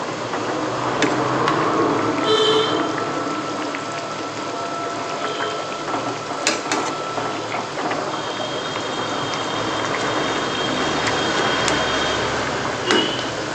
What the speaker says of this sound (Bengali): গ্রেভিটা কিন্তু ফুটতে শুরু করেছে